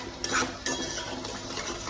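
Egg masala spices being stirred and sautéed in a pan, with a spoon scraping and clinking against the metal over a soft, steady sizzle, close and continuous, with no talking.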